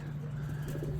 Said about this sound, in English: we're going to be releasing the birds